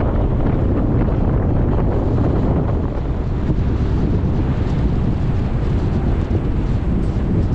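Cool evening wind blowing steadily across the microphone in open countryside near a dam in Rajasthan, a dense continuous roar and buffet that stays loud and close throughout, with no talking.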